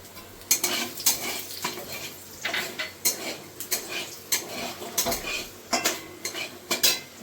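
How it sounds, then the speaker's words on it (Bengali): Whole cardamom, cinnamon, cloves, cumin and bay leaf fry in a pan, with light sizzling under repeated sharp clinks and scrapes of a metal spoon stirring against the pan, close and moderately loud. "ফোড়নটা ভাজা হয়ে গেছে।"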